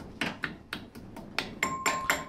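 Hammer taps spreading the legs of a split pin on a castle nut at a trailer wheel hub: about nine short, close metallic strikes in an uneven rhythm, the last few ringing brighter.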